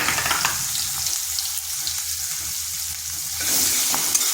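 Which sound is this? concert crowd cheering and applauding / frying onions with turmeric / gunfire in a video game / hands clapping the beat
frying onions with turmeric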